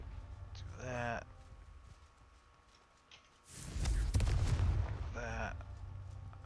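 A Confringo blast spell in the video game Hogwarts Legacy bursts out as a loud, roaring, fiery whoosh after a quiet pause, with a brief voice before and after it.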